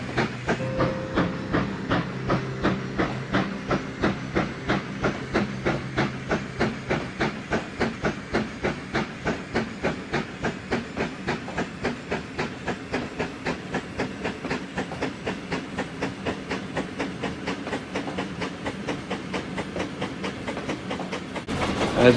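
Steam train chuffing through a dark forest on the Clinchfield highland valley railroad, a rapid, even rhythm of exhaust beats with steady hiss and rail clatter, loud and sustained throughout.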